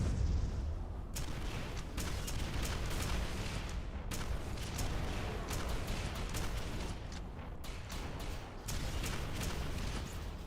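Grenade explosions and combat in Quake 4, a dense run of loud booms and blasts with several sharp bursts over a continuous rumbling battle.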